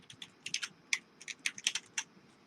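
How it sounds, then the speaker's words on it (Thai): Quick, irregular keystrokes on a computer keyboard under Windows 10, about a dozen close, crisp taps in a short burst, with no other sound. "แล้วก็พิมพ์คำว่า Video Editor ครับ"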